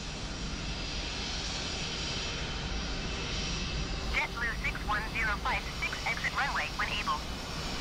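A distant aircraft engine drones steadily during takeoff in Microsoft Flight Simulator, a continuous airy roar running beneath someone talking in German, with brief chirping tones in the second half.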